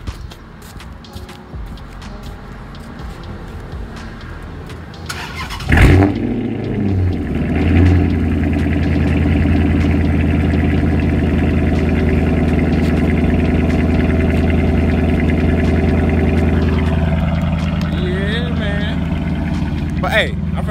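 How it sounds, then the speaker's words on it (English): A car's engine cranks and catches at about five seconds, then settles into a steady, loud idle as it warms up from a cold start, with someone talking over the rumble. "I'm gonna let my car warm up for a little bit."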